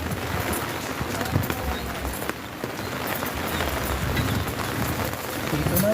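Heavy rain pouring steadily onto surfaces, a dense continuous hiss with scattered drips and splashes, with voices talking under it.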